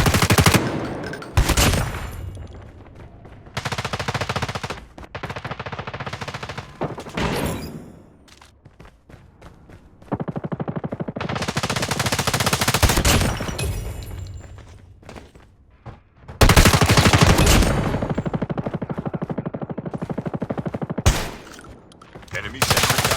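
Enemy sentry gun in a video game firing in long rapid automatic bursts, loud and close, broken by short pauses and sharp impacts, with faint voices now and then.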